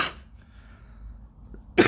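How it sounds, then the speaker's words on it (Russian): A woman with a lingering cough gives one sharp cough at the very end, after a stretch of near silence with a low hum in a quiet indoor room. "у меня кашель все еще есть"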